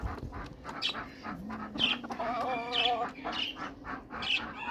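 Budgerigars from a breeder's clutch squawk and chirp close by during a nest check, a string of sharp, repeated calls over a low background hum.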